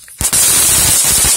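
Birthday fireworks bursting close by: a sharp bang, then a dense, loud stream of crackling pops that runs on without a break, like a rapid-fire firecracker barrage.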